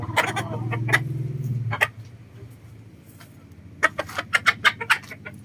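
A chicken clucks in short, sharp bursts, a few isolated notes early on, then a quick run of rhythmic clucks near the end, heard close by over a low hum.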